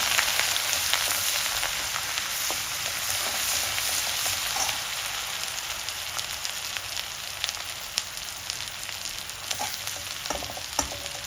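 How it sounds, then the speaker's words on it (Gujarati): Garlic and chili paste sautés in a pan with a steady, close crackling sizzle and faint stirring scrapes throughout, with no talking. "અને પ્રોપર આપણે હવે સોતળી લઈશું"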